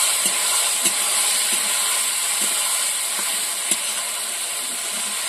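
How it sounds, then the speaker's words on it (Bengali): Salted lote fish frying in a pan for a Bengali curry with potato and eggplant, giving a steady loud sizzle and hiss throughout, with faint soft taps of stirring at irregular intervals. "মাছ নাড়াচাড়া হয়ে গেছে"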